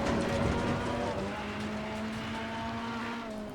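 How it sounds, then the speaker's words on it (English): A Ferrari 488 EVO GT3 in the Assetto Corsa Competizione racing game drones steadily as the engine note drops through a downshift into second, loud and continuous with no speech over it. "downshift down into second"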